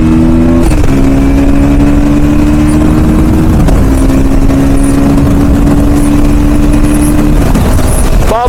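A KTM Duke 160 motorcycle engine revs loud and close, holding high revs with brief shifts in pitch and a throttle blip at the end, the exhaust note steady and continuous with no talking.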